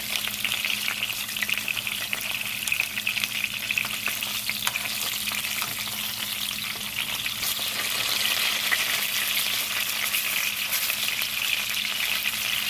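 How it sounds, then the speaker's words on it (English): Steady, continuous sizzling of pork chops frying in a hot pan, a dense crackling hiss that holds at an even loudness throughout with no voices. "So after frying this for 5 minutes, I am gonna flip it over."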